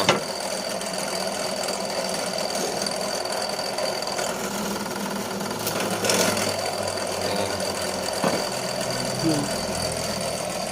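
A power tool bores a hole through a wooden cutting board, a steady mechanical whirring drone that runs throughout with a slight rise near the middle, and voices talk over it.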